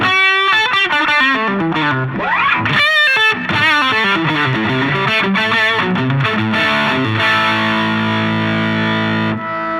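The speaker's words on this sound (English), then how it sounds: "So now I'm in the lead channel with the OD gain on," A heavily overdriven electric guitar plays a fast lead line through a Koch amp's lead channel with overdrive gain and boost on, a saturated tone with a touch of modulation, loud and up front.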